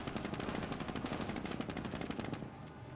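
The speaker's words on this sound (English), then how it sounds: "30 cal set them up, firing a volley there onto the Panzer Grenadiers." Sustained bursts of 30 cal machine gun fire from the Company of Heroes strategy game, a dense rapid rattle of shots that stays loud and continuous, with gunfire layered close in the battle mix and no talk.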